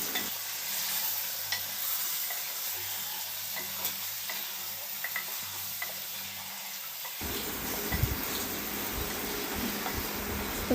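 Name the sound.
onions frying in oil for handi chicken, stirred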